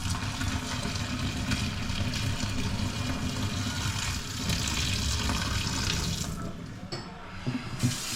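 Tap water runs steadily into a sink while food is rinsed under it, a close, continuous splashing that breaks up and quiets near the end.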